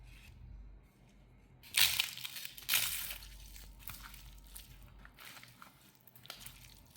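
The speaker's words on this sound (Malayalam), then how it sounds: "എന്തായാലും ആ കറികളൊക്കെ കൂട്ടി ഒന്ന് കഴിച്ചു നോക്കാം" Someone eats a Kerala pothichoru rice meal with curries from a banana leaf: quiet, close chewing and mushy squelches, with two louder crunchy bites early on and no talking.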